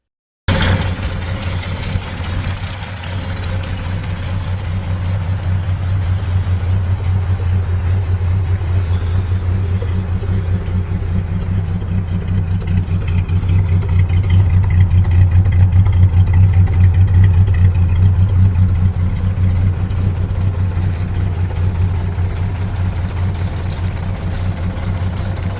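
A rare 1962 Studebaker Lark Wagoneer station wagon engine runs at a steady, loud, close idle, a deep continuous rumble with a slight rise midway, and no voices.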